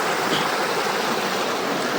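A river flowing down from Mount Kenya rushes steadily, a dense, even hiss of moving water heard close and alone with no voices.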